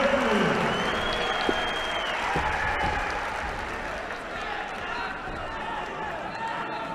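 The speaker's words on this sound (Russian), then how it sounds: "Аплодисменты" Audience applause in an arena at a wrestling championship in Ingushetia, a broad wash of clapping and crowd noise, loudest at the start and easing slightly, with voices and hall sounds mixed in.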